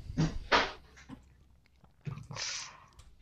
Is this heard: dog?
yes